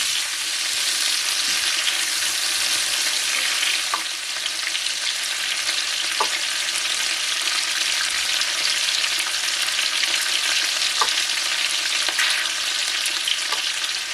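Peppers frying in a pan for spetsofai with cherry tomatoes, a steady, loud, close hiss of sizzling oil continuing throughout, broken by a few faint clicks of a utensil.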